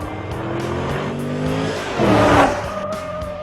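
A 2010 Chevy Camaro SS on Eibach Pro Plus suspension runs a hot lap on a track, its engine note climbing through the gears as tires briefly squeal midway, loud and close.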